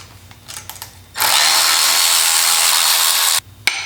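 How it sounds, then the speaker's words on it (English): A Milwaukee ratchet used on Triumph crankshaft end float work whirs in one loud, steady burst of about two seconds, with scattered clicks and a sharp snap after it. "I love this ratchet, by the way."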